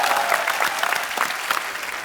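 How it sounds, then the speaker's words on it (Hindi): A television comedy show's studio audience breaks into applause, a dense wash of clapping from a large crowd, loud and continuous, with no talking over it. "एक बार जोरदार तालियां"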